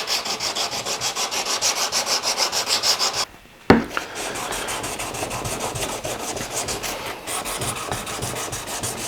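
A card scraper edge is rubbed back and forth across abrasive grits in a woodworking shop, a close, rhythmic scraping that pauses briefly with a knock, then resumes as a steadier rasp.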